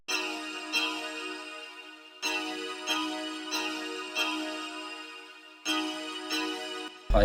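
A dark synth pluck from the Nexus plugin plays a repeating bouncy pattern of short notes, clean and moderately loud with no voices.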